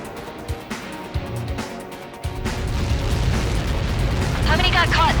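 In the video game Ace Combat 7: Skies Unknown, after a quieter, muffled start, a deep booming explosion erupts and rolls into a sustained, heavy rumble that stays loud to the end.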